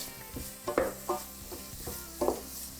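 Tofu with an Italian spice mix is stirred in a hot pan. A handful of scraping, clattering strokes of the utensil come close together over a soft background sizzle of frying.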